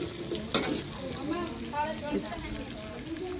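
Onion, ginger and garlic frying in a pot for chicken karahi at a village cook-out, sizzling steadily with stirring scrapes and a brief clink while people talk over it.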